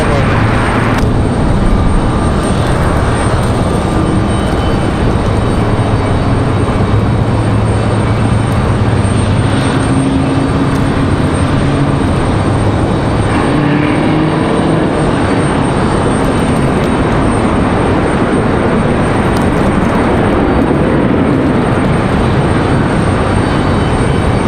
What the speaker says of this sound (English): We've got United touching down